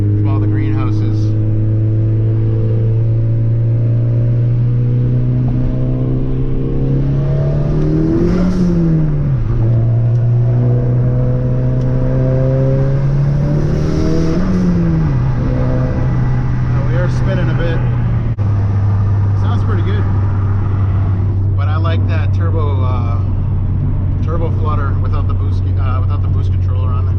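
A big-turbo VW GTI cruises a wet highway at night, its steady engine drone rising briefly with two throttle surges and a shift, tire hiss underneath, while people talk inside the cabin.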